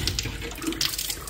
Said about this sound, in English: So we're just going to make sure that when we do open the tap,